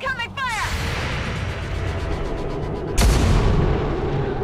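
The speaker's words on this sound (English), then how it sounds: "Incoming fire!" Gunfire and explosive blasts in the XCOM 2 War of the Chosen strategy game rumble loudly through dense battle noise, with a sharp new blast near the end. Voices can be heard in the background.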